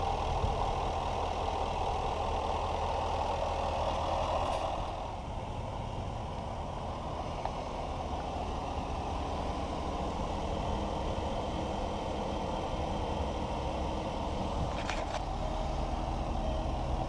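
A 550-horsepower 5.0 V8 idles steadily with a deep, rumbling burble that stays close and continuous, and no talk over it.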